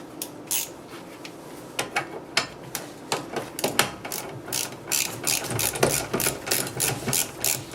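An 18 mm ratchet working on the front wheel bearing of a 2006 Mercedes C200 CDI: a close series of quick metallic clicking bursts in irregular rhythm, with no talk.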